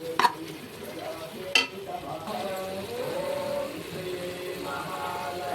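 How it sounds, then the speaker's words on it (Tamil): Mint and coriander leaves sauteing in oil in a pan for prawn biryani, a soft steady sizzle with stirring and a couple of sharp utensil clicks near the start. "புதினா கொத்தமல்லி போடலாம். ஒரு அரை கட்டு நல்லா எண்ணெய் வர அளவுக்கு வதக்கலாம்"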